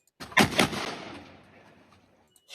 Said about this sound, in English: That was just conveniently timed gunshots with the rock throw.